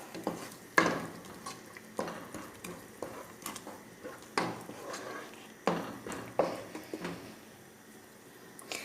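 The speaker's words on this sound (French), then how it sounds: "Je vais encore faire revenir le tout ensemble pendant 5 minutes." Ingredients for a pea tajine are sautéed together in a pot, with repeated scraping and clinking of a utensil against the pot in an irregular rhythm at close range.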